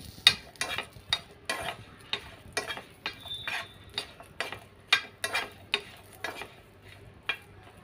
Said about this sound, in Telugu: ఒక 10 వరకు పచ్చిమిర్చి వేసాను. ఇవి ఆయిల్ వేయకుండానే ఉత్తగా ఇలా వేపుకుంటాను.